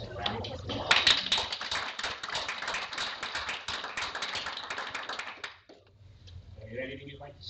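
A small indoor audience applauds a librarian with a dense, steady round of clapping for about five seconds, then it stops abruptly, leaving a quiet room with faint murmuring.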